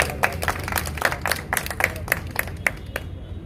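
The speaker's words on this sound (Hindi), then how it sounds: "एक बार इनके लिए जोरदार ताली बजा दें।" An audience at a patriotic poetry gathering in Jaipur breaks into clapping on cue. The claps are loose and uneven, moderately close, and fade out after about three seconds.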